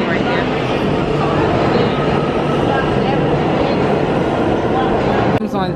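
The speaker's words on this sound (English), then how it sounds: "We are now on the subway." A New York City subway train rumbles loudly and continuously, wheels clattering on the rails close by, with people talking faintly beneath the din.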